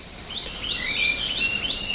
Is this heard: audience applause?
no